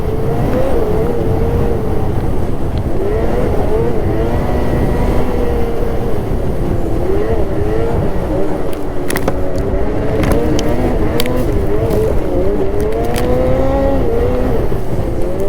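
A 2024 Ski-Doo XRS Comp Turbo snowmobile engine hums close at partial throttle on a Vermont trail ride, a steady droning note that rises and falls gently, with a few sharp clicks midway.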